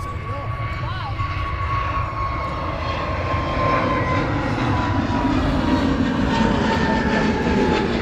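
A Pegasus Airbus A320 rolls down the runway on its takeoff run at Manchester Airport, a broad jet engine roar building in loudness, with voices talking faintly at the start.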